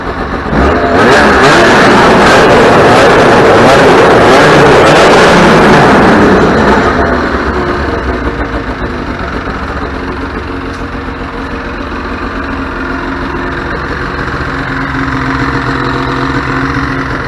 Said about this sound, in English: Listen to that. Look at idles.